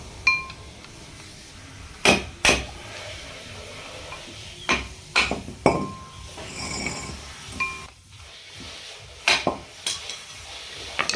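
Sharp metallic knocks from a hammer driving a screwdriver against a wheel bearing cap on a Ford Figo, struck in short bursts of two or three taps with pauses between, close and fairly loud.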